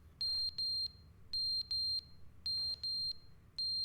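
Fire alarm in The Stanley Parable video game, sounding as sharp, high electronic beeps in pairs, repeating in a steady rhythm with brief gaps, fairly quiet and alone.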